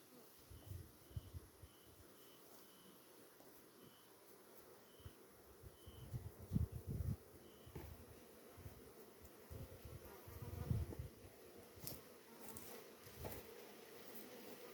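Honey bees buzz around frames from a green hive being pulled for honey extraction, a faint, continuous insect hum with soft rustling and handling noises close by.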